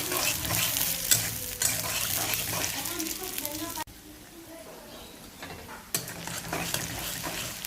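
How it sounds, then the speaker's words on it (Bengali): Onions sizzle and hiss in hot oil with stirring scrapes, the frying loud at first, dropping briefly quieter, then returning strongly. "পেঁয়াজটা ভালো করে ভাজবো"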